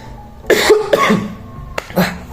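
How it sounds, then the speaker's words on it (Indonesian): Two or three harsh, close coughs in quick succession, a short pause, then another cough, with no talking. "batuk lagi"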